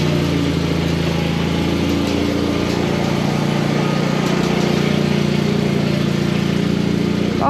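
A Wheelhorse 417A box tractor engine runs loud and steady close by, a constant buzzing drone with no pauses and no talking.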